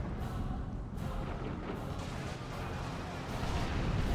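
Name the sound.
Manticore artillery strike in video game Dawn of War II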